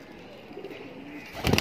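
Kasuri pigeon cooing briefly at close range, a low burst near the end after a quiet stretch of faint background murmur.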